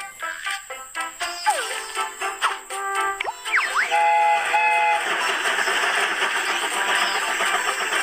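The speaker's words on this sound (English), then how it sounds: "The train is about to start." A cartoon train sets off, with a whistle-like horn and bright rhythmic chugging building into steady running, loud and close, over playful music.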